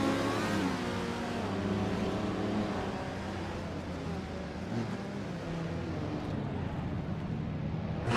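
A classic 1968 Porsche 912 in a racing video game starts from pole position, its engine droning and revving steadily at moderate loudness throughout, with a sustained mechanical hum and no talk.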